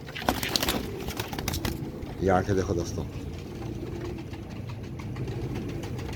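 Pigeons coo in a dense loft flock, a low burbling murmur running throughout beneath a voice talking over them, with a brief louder burst partway through.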